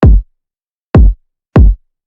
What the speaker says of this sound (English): on the second we add this like triplet kick that sounds like this